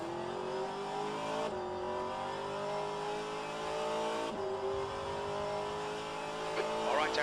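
Race car engines roar continuously in rFactor 2 at Daytona, a steady loud drone with rising and falling pitch as cars accelerate and pass, with a spotter's voice calling traffic over the top.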